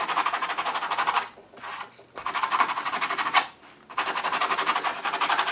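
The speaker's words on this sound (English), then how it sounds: "I want to bring the sandpaper in for just a couple of little scuffs." Coarse sandpaper scuffs across an altered book in three rapid rhythmic bursts of scratchy rasping strokes, separated by short pauses, close and fairly loud with no talking.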